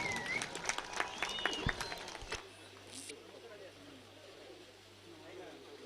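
A crowd at a Kambala buffalo race in Hokkadigoli breaks into a couple of seconds of dense, lively clapping among voices, then drops to a quieter open-air murmur with a low steady hum.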